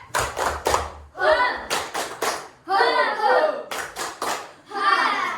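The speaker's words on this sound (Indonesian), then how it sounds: "Tepuk semangat." Classroom children perform a rhythmic spirit clap, with bursts of quick, sharp claps in a set pattern alternating with loud group chanting, repeated three times.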